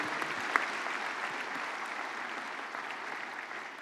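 Congregation applauding during a church service, even sustained clapping from a large gathering, moderately distant, with no talk over it.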